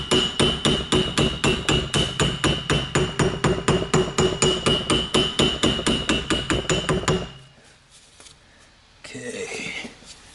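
Smaller ball peen hammer striking metal during hub seal removal bench work, a rapid, steady run of about thirty sharp, loud close blows, then silence and a brief rustle.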